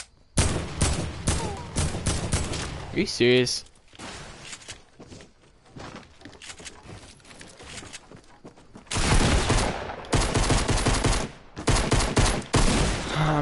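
Gunfire in a Fortnite battle: rapid bursts of shots crack in dense clusters at the start and again in the second half, with quieter scattered shots and footsteps between them and a brief exclamation from a player.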